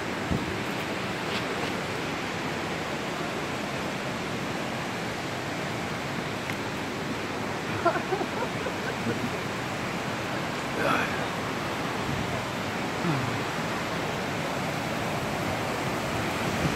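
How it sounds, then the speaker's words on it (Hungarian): A stream flows nearby in a continuous rushing wash of water, steady and fairly loud throughout, with a few faint voices and light wind buffeting in the background. "De itt jön át a patak."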